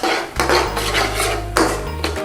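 Base gravy for a chicken saag curry is stirred around a pan, loud close scraping strokes with a low rumble and a few sharp metallic swipes, no voices.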